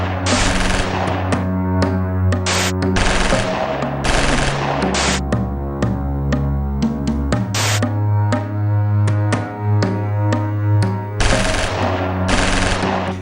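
AK-47 assault rifles and 7.62 mm light machine guns fire at a training camp, loud and close, with rapid overlapping bursts and single shots cracking in irregular volleys throughout.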